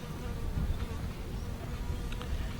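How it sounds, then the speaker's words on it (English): A big insect buzzes close by at a boat ramp, a steady droning hum that swells slightly as it passes, over low outdoor background noise. "Hey, I got me a big bug, just buzzed me."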